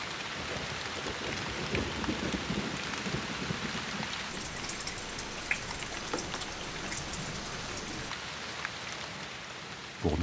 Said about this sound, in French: La pluie ne cesse de tomber.